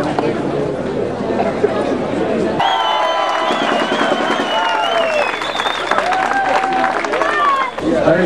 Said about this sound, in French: Voilà, allez, on les applaudit.